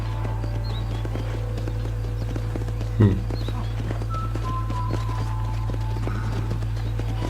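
Horse hooves clip-clop on a ranch in the Red Dead Redemption video game, soft repeated steps under a steady low hum, with a brief louder thump midway.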